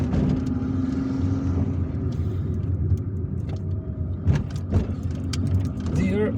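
Car driving along Hanafi Street, a main avenue in Hussein Dey, Algiers, its engine rumbling steadily from inside the cabin with road and wind noise and a few passing bumps, while a person talks over it.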